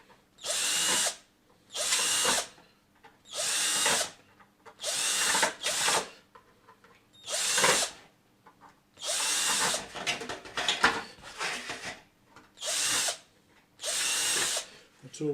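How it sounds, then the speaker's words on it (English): Power drill with a 1/8 inch bit clearing landing gear bracket holes in a 3D printed Beechcraft Staggerwing model, about ten short whirring bursts separated by quiet pauses, close and loud. "I'm just going to clear them out with just about a 1/8 drill bit."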